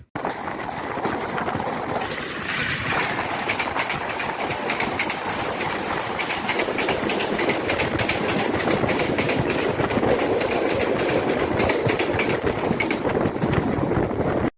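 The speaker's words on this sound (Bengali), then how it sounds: "আমাদের ট্রেন কিন্তু দুর্দান্ত গতি নিয়ে একের পর এক ছোট ছোট স্টেশনগুলো অতিক্রম করে যাচ্ছে" Loud, continuous rumble of the nonstop Subarna Express racing past small stations in Bangladesh, with rhythmic clickety-clack of wheels throughout, heard from on board.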